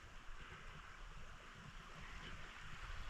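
A river flowing steadily outdoors, with a continuous broad rush of water close by and no voices.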